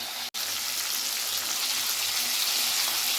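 Masala paste frying in a pan with fried tomatoes, a steady close hiss and sizzle that fills the whole stretch after a brief dropout near the start.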